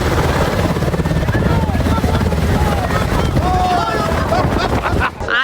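A medevac helicopter's rotor thumps loud and close as a steady broadband roar, with wind buffeting the microphone and voices talking underneath.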